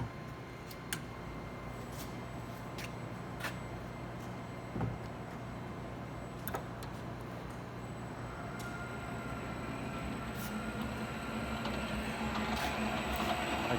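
A COE CPPS-250-18 coil straightener, an 18-inch machine wired for 480 volts, runs in auto mode with adjustable speed, giving a steady, even mechanical drone with faint clicks and ticks throughout.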